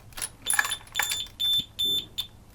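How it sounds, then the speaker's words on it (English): Triumph Rocket 3 motorcycle security alarm sounding during electrical fault-finding with the ignition on: several short, loud, high-pitched electronic chirps and beeps in an irregular burst, close by. "I might set the alarm off again"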